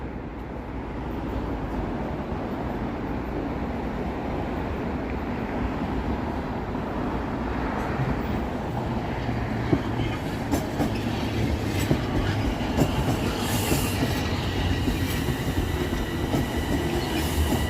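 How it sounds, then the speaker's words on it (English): A train rolls past on an evening in Toronto, a loud, steady rumble with rhythmic wheel clatter and occasional metallic squeal, close and continuous throughout with no talking. "Comes a train."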